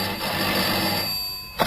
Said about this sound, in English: Telephone rang once again.